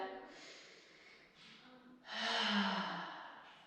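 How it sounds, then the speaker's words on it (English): A slow, deep inhale followed by a long, full exhale during a gentle yoga flow, heard close and alone, the breath swelling and then easing away. "Full deep breath here, full exhale."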